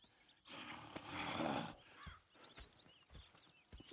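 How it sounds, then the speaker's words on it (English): Horses in Red Dead Redemption 2 stir and shift in a broad, roaring burst of hooves and snorting during the first second or so, then settle into scattered soft thuds and rustles with no talk. "Go check the horses are ready."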